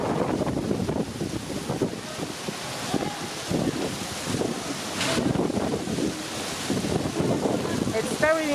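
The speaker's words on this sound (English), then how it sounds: "It's very windy today" Wind buffets the microphone on the open deck of an MSC cruise ship at sea, a continuous gusty rumble with rushing surges and faint background sounds throughout.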